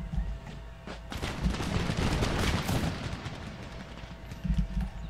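Massed musket volleys from infantry in the strategy game Empire: Total War, a dense, continuous crackle of overlapping gunshots with heavy low booms, loud and sustained throughout with no talking.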